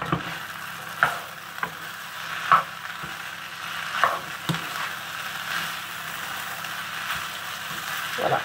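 Rice and vegetables seasoned with turmeric sizzle steadily in a frying pan, while a utensil stirs through them with scraping strokes roughly every second, close and clear.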